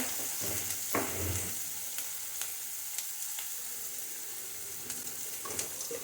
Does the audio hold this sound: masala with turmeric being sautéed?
yes